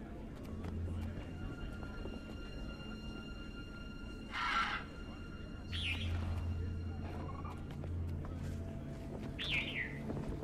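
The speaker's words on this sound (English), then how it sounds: "Listen to the birds." Ambient birdsong in an open outdoor area of the fantasy video game Guild Wars 2, with a few distinct chirps and short tweeting calls rising over a soft, steady background hum.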